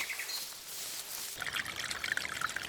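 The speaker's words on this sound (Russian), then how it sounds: "Река сначала слышна, холодный ровный шум" Cold river water flows steadily through forest, a continuous hissing rush with brighter trickling and splashing detail, with faint birdsong above it.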